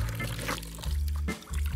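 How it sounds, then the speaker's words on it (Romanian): Spring water pours steadily from the source in a yard, a close continuous splashing flow with a brief dip near the end and no clear talk. "Să ai apă. Direct din izvor aici e..."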